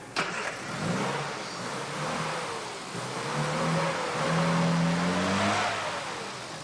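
A car engine cranks and catches in a garage after an oil check, then runs steadily with a rising and falling rev tone, loud and close, with no talk over it.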